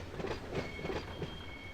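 A locomotive hauling a freight train in the Run8 train simulator game, on the Selkirk route, with a soft steady rumble and faint rhythmic wheel clatter, fairly distant and low in level.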